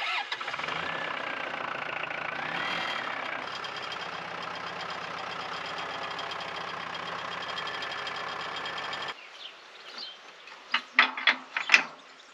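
A farm tractor engine in Portugal cranks and fires, then runs at a loud, steady idle for several seconds before cutting off into a few sharp clanks and knocks close by.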